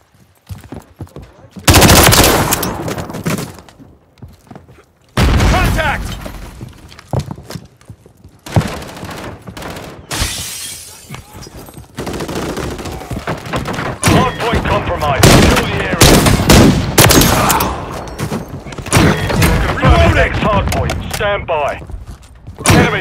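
Heavy gunfire and grenade blasts in Call of Duty Modern Warfare 3 gameplay: loud bursts of automatic fire, single shots and booming explosions come in dense, repeated waves, with brief lulls between them.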